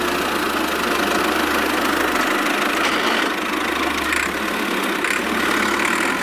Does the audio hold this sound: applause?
no